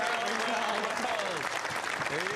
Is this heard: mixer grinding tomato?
no